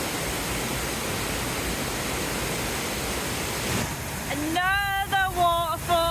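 A waterfall on an Italian Alps via ferrata pours in a steady dense roar, close and loud, joined near the end by a clear voice talking over it.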